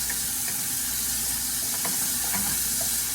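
Chopped tomatoes sizzle steadily in a hot pan for sautéed bitter melon with egg (ginisang ampalaya). There are a few light clinks and stirring scrapes, and nobody speaks.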